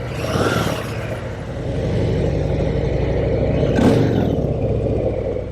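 Close, loud Harley-Davidson Heritage Classic 114 motorcycle engine rumbling steadily, with a couple of throttle blips swelling the deep, throbbing exhaust note.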